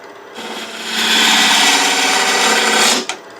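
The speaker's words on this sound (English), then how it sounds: "it's a standard conventional scraper, so I need to lift the handle just a little bit, but I'm going to get it back into that corner" A conventional scraper cuts wood on a lathe while turning a rook chess piece box: a loud rough scraping rasp builds, holds for about two seconds, then stops abruptly with a short knock.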